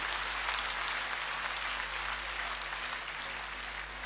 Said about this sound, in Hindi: दोनों हाथ उठा के जोरदार तालियां बजा के हमारे नेतृत्व का स्वागत कीजिए